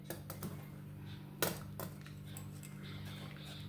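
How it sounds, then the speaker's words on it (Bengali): A spoon stirs rice in a pot of mango phirni, giving a few soft, scattered scraping clicks against the metal under a steady kitchen hum. "এবার সব সময় নেড়ে যেতে হবে নাহলে তলায় লেগে যাবে"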